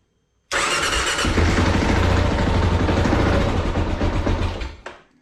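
A Kawasaki KLR 650 motorcycle, cheap and bought used, fires up on choke after a brief crank, then runs loud and close with a steady rough idle for several seconds before a sudden stop.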